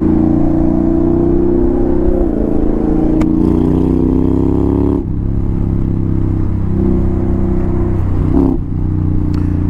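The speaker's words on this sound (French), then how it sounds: "Wouah, on dirait des coups de shifter à chaque..." Honda X-ADV scooter on a Paris ring road at night, engine drone rising with acceleration and broken by sharp exhaust pops at each throttle change, loud and close.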